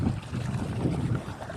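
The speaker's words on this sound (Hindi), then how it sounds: "इस खेत में ये चल रहा है 5 का इंजन।" A 5 hp engine used in a farm field runs with a steady low rumbling drone, close and continuous, roughened by wind buffeting the microphone, with no talking.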